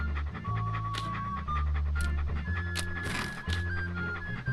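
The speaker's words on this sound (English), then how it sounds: "What a ferocious looking dog." A dog in the point-and-click adventure game Monkey Island 2: LeChuck's Revenge pants in quick, continuous rhythmic breaths over a low, tonal game soundscape, fairly close, with no speech.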